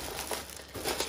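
Plastic packaging is crinkled and peeled from an Iwatani Eco Premium butane burner, giving close, continuous crackling with a few louder rustling bursts.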